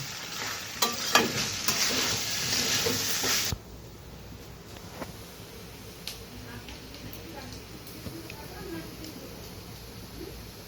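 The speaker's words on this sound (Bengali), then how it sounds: "তো ভালোভাবে নেড়ে নামিয়ে নেব" A spoon stirs beaten egg into pasta in a hot pan, with clattering scrapes and sizzle that are loud for the first few seconds, then drop to quieter, intermittent stirring and clicks.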